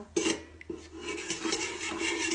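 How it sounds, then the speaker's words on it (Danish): A spoon scrapes and rubs around a bowl while yeast dough is stirred together with water, giving a few close, rasping strokes with brief knocks against the bowl's side. "så skal vi have rørt den"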